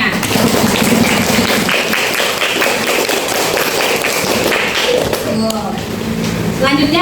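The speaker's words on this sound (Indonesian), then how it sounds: "Kita apresiasi semuanya dengan memberi tepuk tangan untuk seluruhnya." A classroom of students applauds presenting groups. The clapping is dense, steady and loud, filling the whole stretch, with voices mixed in underneath.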